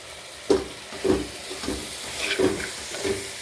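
Kuppa cheera spinach leaves sautéing in a pan with light, soft sizzling and a few stirring scrapes at a steady pace, fairly quiet and with no talking.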